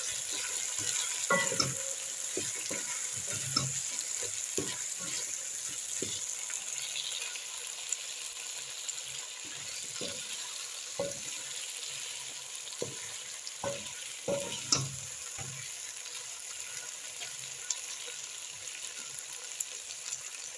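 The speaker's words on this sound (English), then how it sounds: "I'm putting my potatoes at this stage so that they begin cooking because they are a bit hard." Potatoes sizzle steadily while frying in a pot of pilau, with scattered scraping clicks of a spoon stirring them through the hot oil; close, continuous and without talk.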